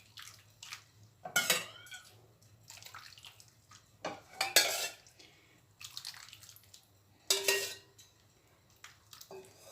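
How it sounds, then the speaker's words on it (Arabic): Soup is poured over stuffed zucchini in a cooking pan, with short bursts of liquid splashing and clinks of utensils against the pan, separated by quiet pauses and no talking. "انا عندي شوربه هسقي بيها المحشي بتاعنا بالشكل ده"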